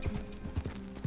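Horse hooves clip-clop in the Red Dead Redemption 2 video game, a steady walking rhythm of dull thuds over a low game ambience.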